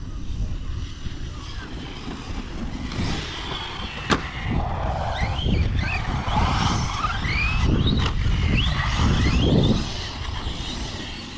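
An Arrma Mojave RC car runs at full throttle across a lawn, its electric motor whining with rising and falling pitch under steady wind noise. People talk over it.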